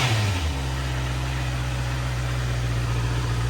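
A 2021 Honda CB650R engine fitted with a K&N air filter starts up close by, settling quickly from a brief higher rev into a steady, even idle hum.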